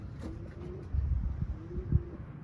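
Homing pigeons cooing close by, soft low repeated coos and murmuring with a few fluttering bursts from birds in flight.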